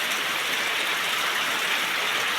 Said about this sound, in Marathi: पण आज पण पाऊस भरपूर हा.